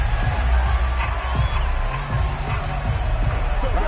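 A football stadium crowd at the end of a UFL game murmurs and cheers in a broad, continuous roar, with scattered whoops and shouts rising from the stands under some speech.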